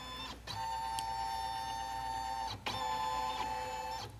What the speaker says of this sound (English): I'm going to scan this image in because this machine will do that.